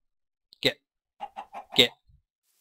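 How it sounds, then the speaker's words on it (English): Video-game chicken perched up in a tree, giving a few short, close clucks in two brief bursts with a quick run of soft clucks between them, over otherwise silent background. "Hey there, chicken. What you doing in the tree?"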